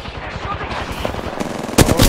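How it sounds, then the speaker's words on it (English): Rapid automatic gunfire in the online shooter game Apex Legends, rattling bursts of shots close by that end in a louder, sharper volley, with a speaking voice faintly underneath. "Getting shot at."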